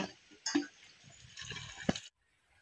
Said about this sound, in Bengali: আমাদের আলু আর বেগুন ধোয়া হয়ে গেছে।